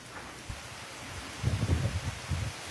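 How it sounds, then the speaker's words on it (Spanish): Hurricane rain and gusting wind in Coamo, Puerto Rico, with water being pushed along, a steady broadband hiss broken by low rumbling gusts that swell near the middle and end. "Miren cómo es empujada el agua."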